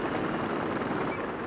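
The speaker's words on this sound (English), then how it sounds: "Who's in the helicopter right now?" Helicopter in the video game Battlefield 4, a loud continuous rotor and engine drone filling the whole clip, close and steady, with no speech.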